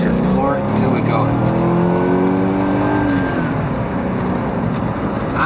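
A 1986 Mercedes-Benz W126 560SEL accelerates at full throttle, its engine note climbing steadily in pitch as the revs build, loud and sustained from inside the car.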